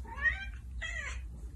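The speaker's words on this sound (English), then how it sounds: "My sweet cat." A cat meows twice, close and clear, the two calls separated by a short pause over a low background hum.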